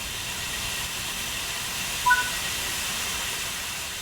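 A steam locomotive in the Spirit of Steam video game hisses steadily as the regulator opens, a continuous broadband rush of steam with a brief faint whistle-like blip midway; no voices.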